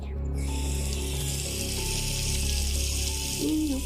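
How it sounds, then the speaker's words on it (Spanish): Water runs steadily from a tap as one continuous close hiss, with faint rattling underneath. "Vamos a ver cómo está cayendo el agua el día de hoy."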